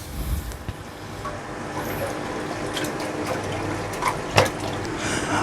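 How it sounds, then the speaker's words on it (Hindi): Steady rushing water fills a pan, a continuous splashing pour of three glasses of water with a few faint clinks, no voices. "अब एक पैन में 3 गिलास पानी शामिल करेंगे।"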